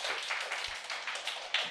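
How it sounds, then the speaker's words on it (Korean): Light, scattered clapping from a small audience at a live police exam talk show, a faint patter of hands with a few sharper individual claps, brief and quiet. "박수 주세요."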